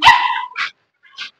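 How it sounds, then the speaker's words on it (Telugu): A dog barks close by: one loud bark followed by two shorter, softer yips with brief pauses between, no talking. "కుక్కు బుబ్బు అంటాందిరా."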